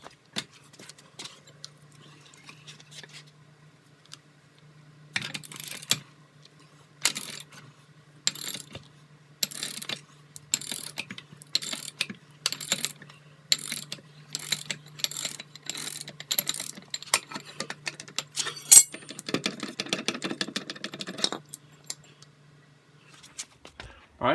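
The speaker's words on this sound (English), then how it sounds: "I got a long breaker bar on this ratchet" Ratchet fitted with a long breaker bar loosening a bolt during a stand-up jet ski rebuild, a run of repeated clicking ratchet strokes in bursts, close, with a low steady hum and some talk.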